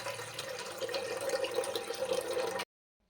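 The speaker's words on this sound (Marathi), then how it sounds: "आता आपण त्यामध्ये पाणी टाकणार आहोत" Water splashes steadily into a pot for a few seconds, a continuous close pouring rush that stops abruptly.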